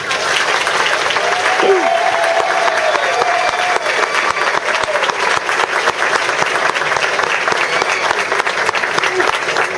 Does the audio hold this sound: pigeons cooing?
no